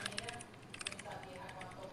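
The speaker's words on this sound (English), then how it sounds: "I can hear your keyboard." Rapid, light computer keyboard clicks patter under ongoing talk during a Fortnite game, fairly close, with bursts of keystrokes scattered throughout.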